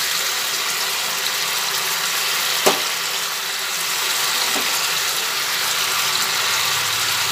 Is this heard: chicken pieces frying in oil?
yes